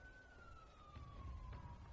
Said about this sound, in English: I'd like to apologize for the police siren outside my window.